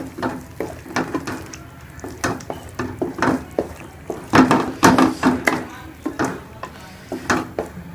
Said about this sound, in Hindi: मैं इसको घी डाल के अच्छी तरह से भून लूंगी